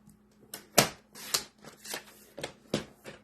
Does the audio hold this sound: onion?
no